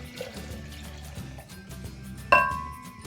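Milk is added to a glass blender jar for a flan in a kitchen. After a quiet stretch of soft handling noises, a single bright, ringing clink of glass sounds and fades.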